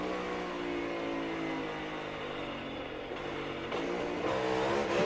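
NASCAR race car at Darlington downshifting, engine tone holding steady then dropping and climbing again as gears change, loud and close with layered harmonic whine and no talk over it.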